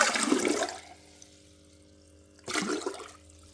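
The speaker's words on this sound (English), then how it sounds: "So currently I'm putting water in here." Water from jugs pours into a 60-litre aquarium onto a weighted plastic tub, two loud gushing splashes separated by a quieter trickling pause.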